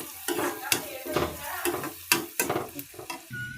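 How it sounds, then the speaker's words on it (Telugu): Turmeric stirred into onions frying in a pan for tillu curry, a spoon scraping in repeated close strokes over a steady sizzle. "పసుపు వేసి బాగా కలుపుకుందాం."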